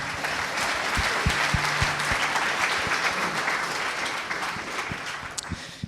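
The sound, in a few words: audience applause for a speaker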